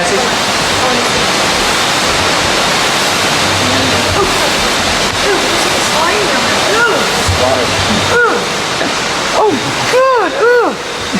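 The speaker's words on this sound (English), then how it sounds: "That's the river, 150 from here." A river rushing far below a high viewpoint, a loud constant broadband roar like a waterfall filling the whole scene, with a person exclaiming briefly over it and some wind buffeting near the end.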